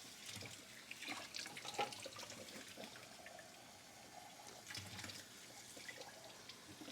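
Tap water runs steadily while a glass lid is rinsed under it at a kitchen sink, with a few brief splashes and clinks over the continuous flow.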